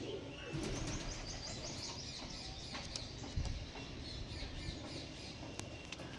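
Pigeons coo softly in a loft among other birds, with faint chirps and low murmuring coos running steadily throughout and no talking.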